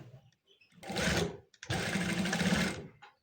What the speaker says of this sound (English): Place this over it and top stitch it.